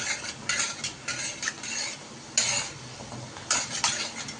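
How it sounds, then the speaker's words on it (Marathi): Soft hiss of gulab jamun frying in a kadai, with intermittent bursts of stirring and scraping as they are turned, a few light metallic taps, no talking. "असं हलवायचं, म्हणजे उलटे पालटे होऊन असं चांगले तळले जातात."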